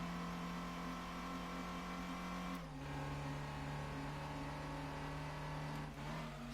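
A Vauxhall Tigra races in Gran Turismo 2, its engine droning at steady high revs with brief gear-change dips, constant and close with no talk.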